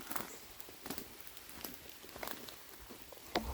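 Light rain starts falling again during an outdoor walk, a faint scattered patter of drops with soft irregular taps and a quiet hiss.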